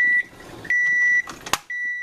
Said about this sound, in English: get rid of this loud thing beeping at me here